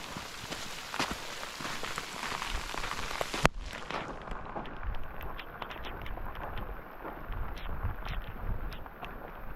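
Heavy rain at a lake shore at dusk in Kahurangi, New Zealand, a dense steady hiss of downpour on surfaces, loud and close, shifting to a slightly softer patter with scattered drips after a few seconds.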